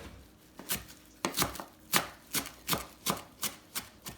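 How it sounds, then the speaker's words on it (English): Cilantro being chopped with a knife on a board for homemade Mexican salsa, about ten crisp, close chops in an uneven rhythm, no voices. "I'm going to go ahead and cut up this cilantro."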